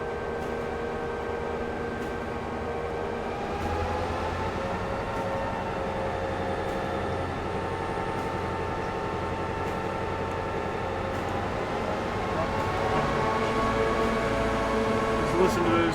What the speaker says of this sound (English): to listen to those EMD 645 prime movers spool up.